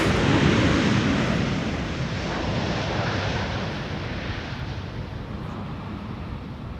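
A KLM Boeing 747, the "Orange Pride," lands at Amsterdam Schiphol in a crosswind, a broad rushing roar that fades gradually, mixed with buffeting wind noise on the microphone.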